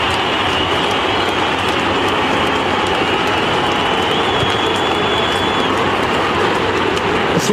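A football crowd at half-time rises in a standing ovation, a dense, loud, unbroken roar of cheering and applause holding steady throughout.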